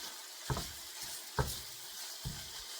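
Hamburger meat browns in a pan with a soft, low sizzle, cut three times by distinct scraping knocks of a spatula breaking it up; quiet and close, with nobody speaking.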